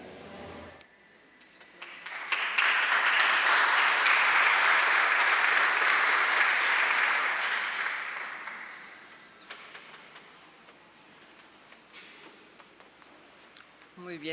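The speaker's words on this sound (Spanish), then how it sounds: "ese fue un aplauso en ausencia" A conference audience at a health systems congress breaks into applause, building to a sustained clapping roar for several seconds before fading away into quiet.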